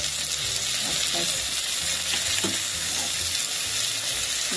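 Garlic and green chili paste, about three spoonfuls, sizzling and frying in a hot pan, a steady loud crackle with occasional stirring clinks.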